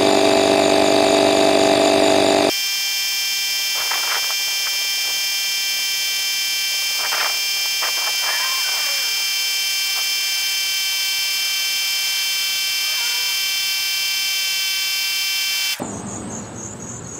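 A VEEAPE 12/120-volt tire inflator pumps a car tire from 24 to 34 psi, a loud, steady electric whine and buzz that holds throughout, with a few faint clanks near the start.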